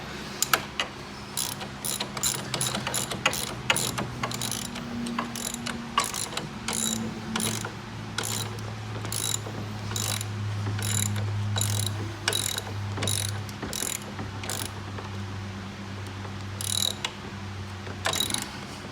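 A ratchet clicks in rapid, steady bursts while tightening bolts on a Venom 1500w E-Grizzly electric ATV during assembly, close and crisp with brief pauses between strokes and a faint hum underneath.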